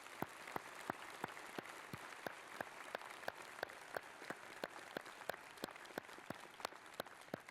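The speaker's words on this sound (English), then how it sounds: "Your applause, please." Faint audience applause at the investiture of a university president, with sharp, evenly spaced individual claps standing out over a soft, distant wash of clapping throughout.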